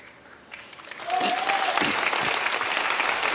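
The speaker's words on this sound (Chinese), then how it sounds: "各位您鼓鼓掌，我给您来一传统的快板行吧" An audience at a crosstalk comedy show bursts into applause. It begins faintly, then swells to full, sustained clapping that holds strongly until the end.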